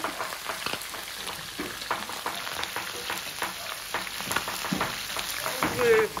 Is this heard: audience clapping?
no